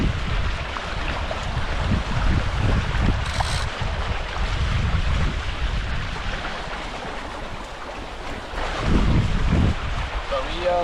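Hobie 16 catamaran under sail on Amistad Reservoir, with loud buffeting wind across the microphone and rushing, splashing water against the hulls, continuous and close, growing rougher toward the end.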